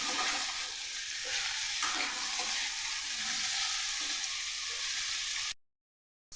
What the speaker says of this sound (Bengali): এবার এটাকে ভালো করে ভাজবো।